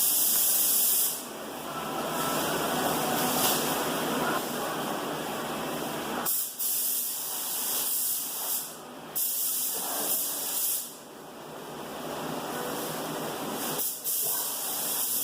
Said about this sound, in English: you want to blow it off with the spray gun